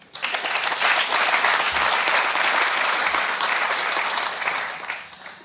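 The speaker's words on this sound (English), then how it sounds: "an applause." Steady, full applause from a conference audience at a youth empowerment forum in Kenya, loud and continuous throughout with no talking over it.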